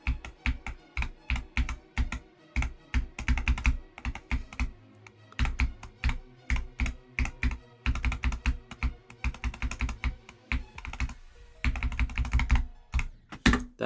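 Rapid typing on a computer keyboard during a live stream, close and crisp clusters of key clacks in bursts with short pauses, steady through the whole stretch.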